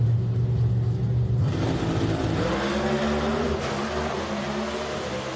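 NHRA Pro Stock drag cars launch side by side, a loud idling rumble swelling into a roaring, rising rev as they pull away from the starting line, heard from a distance with crowd-level ambience.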